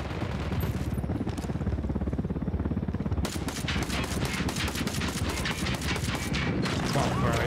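Rapid flintlock gunfire in the video game Ghost Recon Wildlands, a dense continuous fusillade of loud overlapping shots that intensifies partway through, with faint talk underneath.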